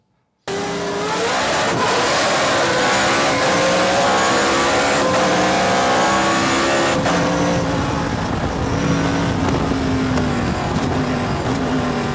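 A race car revs and accelerates loudly through a lap of a track, the engine note climbing and falling through gear changes, steady and close throughout with no talking.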